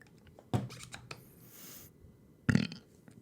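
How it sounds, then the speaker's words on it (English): A person burps after taking a drink of water, two short throaty belches a couple of seconds apart, close but fairly quiet, with faint rustling in between and no talk. "That's burping up my dinner."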